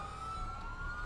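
An ambulance siren in the LCPDFR police game sounds as a steady, sustained wail, loud and close, with a low rumble of traffic underneath and no talk.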